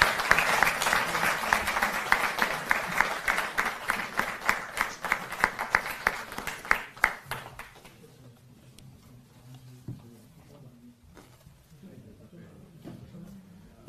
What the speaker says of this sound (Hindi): स्वागत करें, जोरदार तालियां।